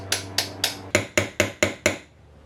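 A hammer strikes a punch to flatten rivets on a car vent window, eight sharp metallic taps in quick even rhythm, close and loud, ringing briefly after each blow.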